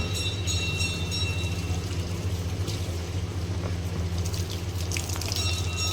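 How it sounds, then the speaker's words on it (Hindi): Water runs steadily into a paddling pool outdoors, a constant rushing hiss that carries on without a break, with faint background clatter and no clear speech. "अभी तो मस्ती कर रहे हैं, पानी भर रहा है, धीरे धीरे भर जाएगा।"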